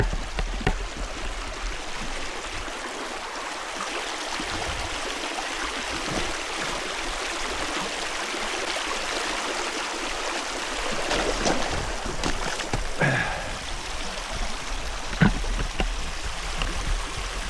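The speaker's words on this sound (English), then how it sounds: "you can see there is a lot of water coming out" Spring water pours out of the ground after heavy rains, a steady broadband rush of flowing water that holds close and even throughout with no voices.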